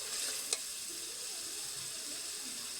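Spice paste for potol dorma with prawns cooks down in oil with a faint, low sizzle, interrupted by a single brief click early on.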